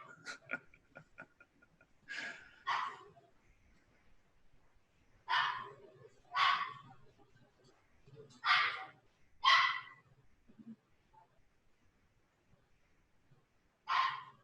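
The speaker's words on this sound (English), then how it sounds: "That's a little baby dog." A small puppy yips and whimpers in short high bursts, several in a row with pauses between, heard during a podcast with faint talk in the background.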